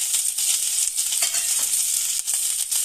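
Mustard seeds, small shallots and chillies crackle and spit in hot oil, a dense steady sizzle with bright popping bursts throughout, close and loud, no voices.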